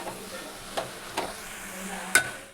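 Dill leaves curry frying in a pan while it is stirred, a faint sizzle under a few soft scrapes and knocks of the spoon, close by.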